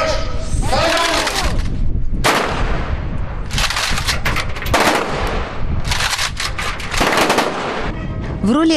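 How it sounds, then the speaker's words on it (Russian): Loud ceremonial gun salute volleys ring out in rapid rolling bursts, one after another, at a naval celebration, with cheering voices and shouts mixed in. "В честь друзей и в честь гостей троекратный наш салют!"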